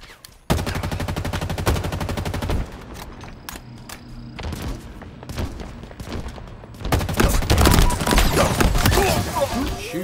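Halo Infinite multiplayer gunfire: a rapid automatic burst of loud, evenly spaced shots, then scattered single shots and impacts, followed by a heavier stretch of overlapping fire and blasts, with a brief announcer-style voice in between.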